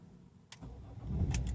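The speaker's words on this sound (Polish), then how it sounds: "teraz jak po prostu odpalam samochód, czy go gaszę, nie ma różnicy" A car engine with newly replaced engine mounts turns over and catches, a short low rumble swelling up after a quiet moment and a faint click, heard close.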